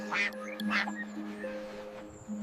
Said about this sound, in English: Mama duck called with a quack, quack, quack